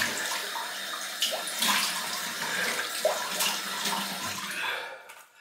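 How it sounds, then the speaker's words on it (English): A tap runs steadily at a sink for a cold rinse after shaving, a dense, fairly loud hiss of flowing water with brief splashy surges that cuts off near the end. "give it a new shape then to a cold water rinse"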